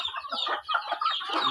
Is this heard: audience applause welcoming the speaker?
no